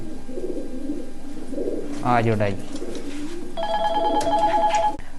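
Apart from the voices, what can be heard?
pigeons cooing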